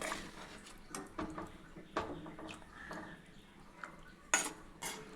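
A ladle stirs Aara fish kulambu in a cooking pot just after the fish is added, giving quiet, irregular metallic clinks and scrapes spread through the stretch, with a sharper knock near the end.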